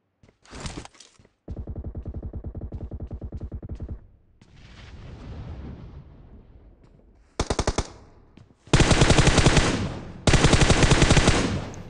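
Gunfire in the mobile battle royale game PUBG Mobile: loud rapid automatic bursts alternate with single shots and a hissing stretch, ending in two long sustained volleys, with no talk.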